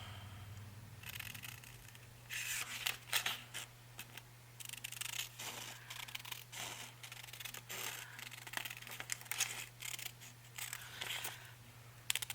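Scissors snip through paper to cut out a piece for an ocean-themed cinch-bound craft journal, with close, irregular bursts of crisp cutting and rustling over a steady low hum, and no talk.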